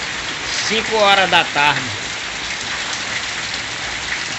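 Heavy January rain falls in the Pernambuco sertão, a dense, constant hiss of drops on surfaces that continues throughout while someone speaks briefly near the start.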